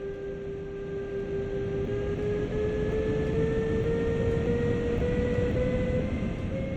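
Double-deck passenger coach hauled by a BR 146.2 electric locomotive in the Train Sim World game, an interior rumble with a steady rising motor whine as the train accelerates, continuous and even with no talk.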